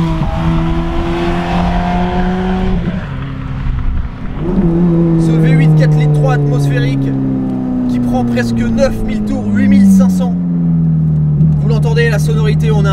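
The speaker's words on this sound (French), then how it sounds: "Ce V8 4 litres 3" Ferrari 430 Scuderia 4.3-litre V8 with a stainless-steel exhaust revs and pulls hard, its tone sweeping up and down in loud, sustained passes with sharp, rasping upper notes.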